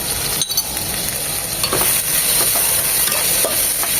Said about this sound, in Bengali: বিশ থেকে তিরিশ সেকেন্ড একটু ফ্রাই করবো এই তেলে